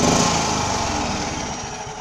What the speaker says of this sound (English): So if you rev it, there's no it's not spitting fire as it was before.